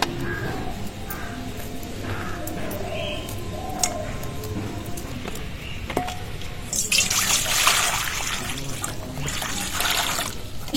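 Flat beans (shim) being washed in water, with steady running and trickling water and light splashing that swells louder near the end, no talking.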